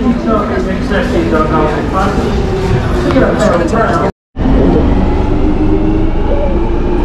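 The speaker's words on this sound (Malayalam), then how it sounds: "അതിന്റെ ഉള്ളിലാണ് ട്രെയിൻ വരുന്നത്." A London Underground train pulls into a platform with a loud, steady rumble and rattle that fills the space, while people talk over it throughout. The sound cuts out briefly near the end.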